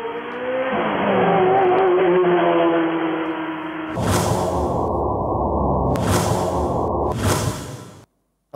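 A car speeds very close past a man crossing a road with a loud, sustained engine roar and whoosh, then a broadband rush of road noise broken by sharp bursts before cutting off.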